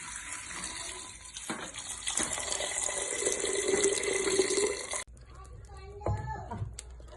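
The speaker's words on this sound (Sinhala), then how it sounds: "ඊට පස්සේ වතුර දාගන්න" Water pours steadily into a cooking mixture of ground ingredients, a close, continuous gushing stream for about five seconds before stopping, with a person speaking nearby.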